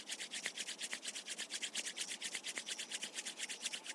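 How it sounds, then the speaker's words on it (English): Palms rubbed briskly together during a yoga breathing session, a fast, even back-and-forth swishing of about eight strokes per second, soft and close, with no talk. "Rub your palms together."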